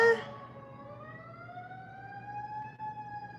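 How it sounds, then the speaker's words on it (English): An ambulance siren wails at a distance, its tone sliding slowly upward in one long sweep that stays moderately loud and steady over a low background hum, with no talk. "Sounds like the ambulance."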